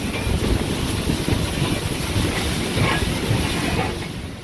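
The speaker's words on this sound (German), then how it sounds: "Der Zug erreicht Stockach auf dem seit 1996 wieder reaktivierten Streckenabschnitt ab Staringen." Steam locomotive 23 058 running on the Ablachtalbahn toward Stockach, a loud, close, continuous rolling roar with hiss and rail noise lasting a few seconds, fading slightly at the end.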